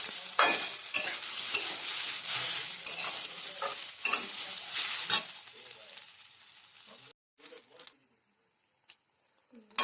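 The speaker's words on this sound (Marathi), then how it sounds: "हे बघा, भेंडी भाजलेली आहे." Okra stir-fried in plenty of oil, with steady sizzling and repeated scraping strokes of a spatula for about seven seconds, then the sound drops to near silence with a few faint clicks.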